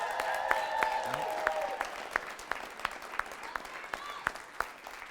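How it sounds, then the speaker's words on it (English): An audience at a two-day Limitless event applauds with thin, scattered clapping that fades into sparse individual claps, heard faintly from a distance. "Huge round of applause."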